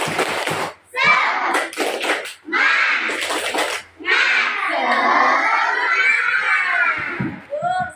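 A school class of children chants and claps together in the rhythmic 'tepuk semangat' spirit cheer, loud and close, with bursts of clapping between chanted lines of young voices.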